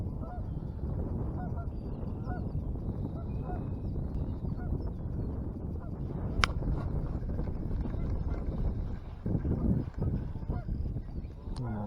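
Geese honk repeatedly at a distance over steady wind and water noise at a spring farm pond in Iowa, with one sharper call standing out midway.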